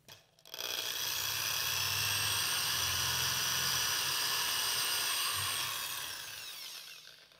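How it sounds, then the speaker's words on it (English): A power drill bores into a squash for a floral arrangement, giving a loud, steady whine that runs for about six seconds before tapering off. "For this, no foam, no muss, no fuss, just the drill."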